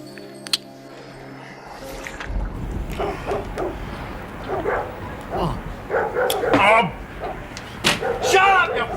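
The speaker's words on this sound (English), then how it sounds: "Oh, bloody dogs." Dogs bark and yip at night in a suburban street. The barking comes in short bursts, some close and some farther off, while a voice talks over part of it.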